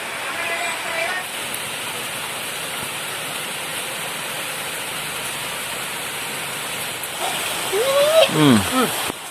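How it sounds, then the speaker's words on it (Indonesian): Heavy rain pours down steadily in an outdoor setting, a dense, continuous hiss that stays loud throughout, with a brief bird-like chirp near the end. "Hujannya makin deras beraya."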